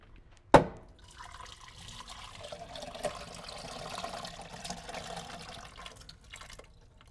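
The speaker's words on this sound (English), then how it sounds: "I'm going to just drain off the water." Water from cooked potatoes poured off in a kitchen, a sharp clank of the pot followed by several seconds of steady splashing and trickling into a sink.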